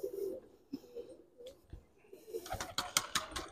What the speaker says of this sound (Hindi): ये अलीगढ़ के मशहूर कबूतर हैं जो अलीगढ़ में ही नस्ल मिलती है